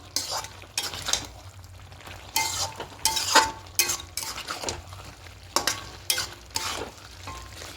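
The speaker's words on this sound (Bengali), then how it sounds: "এটা খুব ভালো করে মিশিয়ে দেবো।" A spoon stirring a thick spinach and hilsa fish head curry in a pan, with quiet bursts of scraping and shuffling in uneven strokes over a soft background sizzle, close and fairly gentle.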